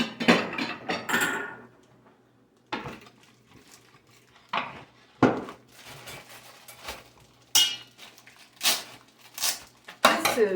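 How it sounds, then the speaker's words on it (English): Dried split peas being poured and clattering into a bowl, followed by scattered close clinks and rattles of kitchen handling with pauses between. "Then you want to take your peas and put them in a bowl."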